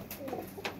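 Pigeons give a soft, low cooing close by in a brief, quiet burst, with faint background rustle.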